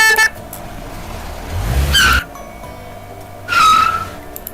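A car accident sound effect with two sharp tire screeches a little over a second apart; the first rides on a low rumbling engine and the second is shriller, with quiet gaps between them.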